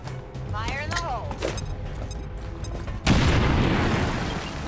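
In the XCOM 2 video game, a grenade goes off with a sudden loud, close blast about two-thirds of the way in, followed by a sustained rumbling roar. Earlier there are game voices and warbling effects.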